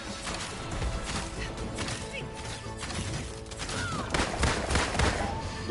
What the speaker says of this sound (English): The pistol shoot faster than the full auto.